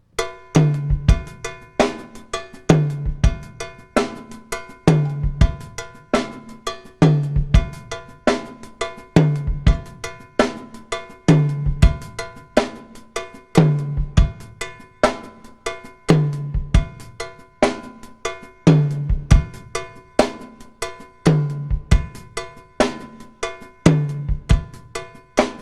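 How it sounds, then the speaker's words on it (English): Funk drum pattern of the kind played behind a conga solo, cowbell and kick driving a tight, repeating groove that loops evenly for about 25 seconds, played alone. "So this pattern that goes behind the conga solo sounds like this."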